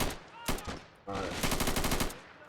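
Video game gunfire from Army Men: Plastic Wars, a jammed gun finally opening up in rapid machine-gun bursts after a short earlier volley, loud and dense across the clip with no talk.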